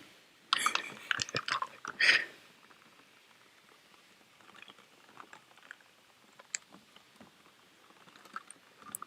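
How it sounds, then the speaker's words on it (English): A water bottle with ice in it is shaken up close, giving a few bursts of loud clattering rattles early on, then sparse faint clicks and taps in a quiet room. "It's a water bottle with ice in it."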